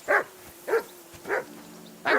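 Dog barking in Kingdom Come: Deliverance 2, four separate sharp barks spaced about half a second apart, fairly close, with quiet between them and no voices.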